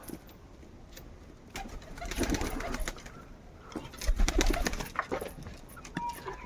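Pigeons coo in low, throaty bursts close by, kept as fancy birds in pairs. The calls swell and fade over a steady background rustle, and no one speaks.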